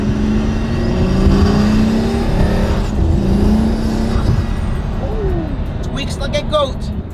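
A car engine, in a car left undriven for eight months, idles and runs steadily up close, a loud low rumble that dips midway, with a brief squeaky whine near the end.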